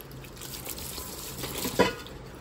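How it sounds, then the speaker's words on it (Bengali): Water poured lightly from a small vessel onto the soil of a newly planted dwarf decorative plant, a faint steady trickle with soft splashing and one brief louder splash near the end. "হালকাভাবে একটু জল দিয়ে দিচ্ছি"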